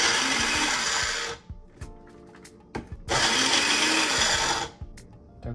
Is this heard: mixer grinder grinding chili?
yes